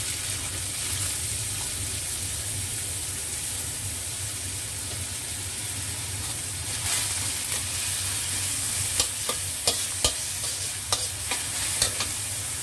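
Onion sizzling in hot oil for a chicken pasta arrabbiata sauce, a steady moderate fry hiss throughout, with a few light spoon clicks and stirring taps toward the end, no talking.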